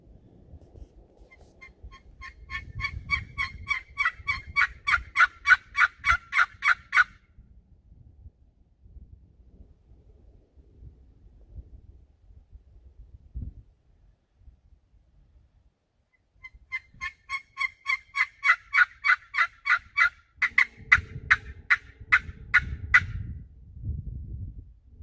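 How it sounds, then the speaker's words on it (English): Wild turkey gobbling outdoors early in the guiding season, two loud rattling gobbles several seconds apart with quiet rustling and wind between them. "We heard a gobble. Yeah, we heard a gobble."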